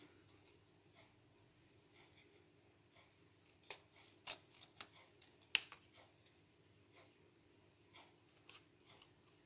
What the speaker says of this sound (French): Je prends mes petits ciseaux. Hop, et je viens découper mon étiquette